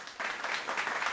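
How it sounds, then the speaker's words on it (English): A podcast soundboard plays a brief burst of applause-style clapping, a dense spatter of hands that stays steady and close for about a second. "I believe there is a clapping sound effect, if that works"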